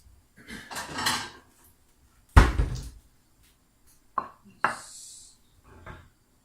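Kitchen plate being taken from a cupboard: a few separate clatters and knocks of crockery and wood, one sharp louder bang in the middle, a light clink near the end, with quiet gaps between.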